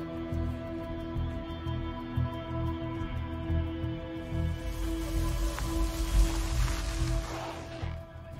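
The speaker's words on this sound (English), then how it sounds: "This rain, something about it feels unnatural to me." Steady soft rain patters continuously in the video game Magic Legends, joined midway by a brighter hiss of heavier rainfall over a low droning ambient hum.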